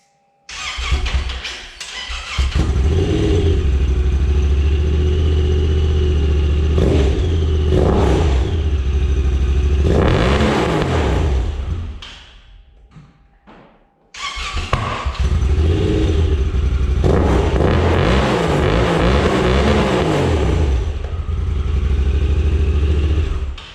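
A Honda Talon UTV engine with a Borla aftermarket exhaust revs hard repeatedly with a deep, throaty exhaust roar, dropping to a brief idle lull before revving up again.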